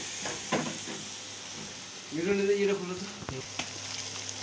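Onion, ginger and garlic fry for mutton curry in a steady sizzle, with a few scraping stirs, a short bubbling hiss midway, and faint voices in the background.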